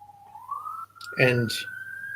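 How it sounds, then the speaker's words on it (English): Distant siren wailing, a steady rising tone held in the background while a person speaks briefly over it. "there's the sirens."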